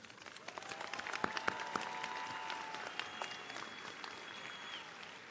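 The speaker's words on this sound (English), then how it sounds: "Please join me in giving them a round of applause." A graduation audience at Auburn Mountainview High School applauds the school staff, steady crowd clapping at moderate distance with a few sharper claps standing out and faint tonal sounds drifting over it.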